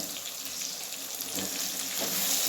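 Turmeric, asafoetida and coriander powder fry in a hot pan while being stirred, a close, continuous sizzle with scattered crackles and scraping that swells slightly toward the end.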